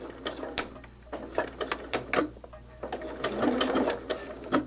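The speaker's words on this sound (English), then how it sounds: "Now I am going to give a stitch or two and then one back" Sewing machine stitching quilt pieces, a few short bursts of close mechanical needle clatter with brief pauses between them.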